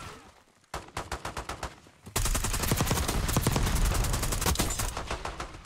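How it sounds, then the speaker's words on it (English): Krig C assault rifle firing in the shooter game Black Ops 6 on the Nuketown map: a few rapid single shots, then a long, loud, continuous automatic burst of gunfire. "I think the Krig is probably like the best assault rifle right now in Black Ops 6"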